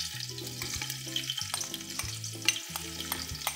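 Onions, tomatoes and chicken sauté in a pan for Thalassery chicken biryani, sizzling steadily with stirring scrapes and clinks throughout, close and without talk.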